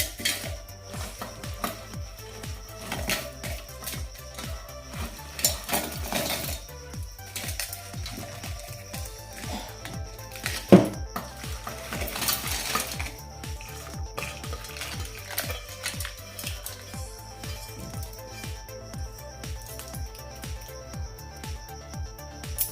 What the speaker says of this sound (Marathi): आता आपण ह्या मिरच्या लसूण वगैरे सगळं मिक्सरच्या भांड्यामध्ये काढून घेऊया